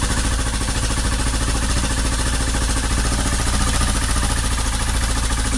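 A motorcycle engine idles after a rocker arm check, a steady close mechanical chug with a fast even rhythm and constant loudness, no voices over it.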